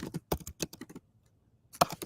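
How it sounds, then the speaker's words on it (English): Typing on a computer keyboard: quick bursts of crisp key clicks close by, a short pause, then a few more taps, with no talking. "Somebody's typing."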